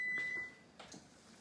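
A kitchen appliance beeps as burgers finish cooking, a short thin electronic tone near the start followed by a couple of soft knocks, fairly quiet in an otherwise still room.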